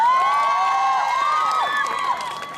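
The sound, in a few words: audience applause at an outdoor fringe performance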